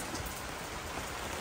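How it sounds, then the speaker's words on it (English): Steady rain falls on a building site where an oak-frame valley roof has just had its rafters put on, a dense, even patter and hiss throughout with no voices. "And it's raining"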